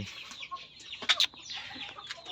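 Native chickens cluck in a brief, faint series of soft calls with a couple of sharper squawks partway through, heard from close range in a quiet farm setting.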